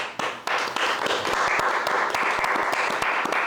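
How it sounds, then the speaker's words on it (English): Podcast guests get applause from a small studio crowd: dense, steady clapping at close range, with a few sharper individual claps standing out, going on alone without talk. "Clap it up."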